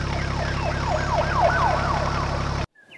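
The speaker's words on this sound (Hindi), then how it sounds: "पुलिस आ जाती है और कालू कौवे को पकड़ कर ले जाती है" A cartoon police siren wails in repeated rising and falling sweeps over a steady low hum, loud and close, then cuts off abruptly near the end.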